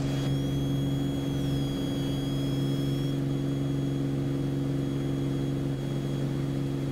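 Beechcraft Bonanza piston engine during the climb after takeoff, a steady loud drone with strong low harmonic bands heard from inside the cockpit, continuous and unbroken throughout.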